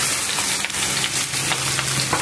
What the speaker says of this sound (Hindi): प्याज और मिर्ची अच्छी तरह से पक गया है, इसमें हमें अब भिंडी और आलू को डाल देना है।